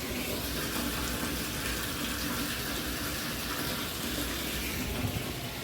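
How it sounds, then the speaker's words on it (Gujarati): Water pouring into a storage tank during the monsoon makes a steady, dense rushing gush that runs continuously with no voices over it. "ચાલો ભાઈ, પહેલાં ટાંકો ભરી લઈએ"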